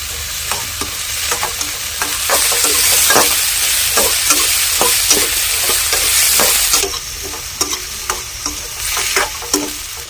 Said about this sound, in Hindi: आलू को इस तरह से हम चला के कर लेते हैं फ्राई